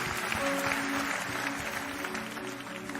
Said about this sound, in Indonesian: Kita beri tepuk tangan sekali lagi buat Tuhan Yesus